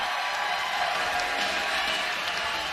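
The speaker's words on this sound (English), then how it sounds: "Big round of applause from Hayward, Wisconsin" Steady applause and light cheering from a crowd at a women's pro timbersports championship, a dense continuous clatter of clapping held at even loudness throughout.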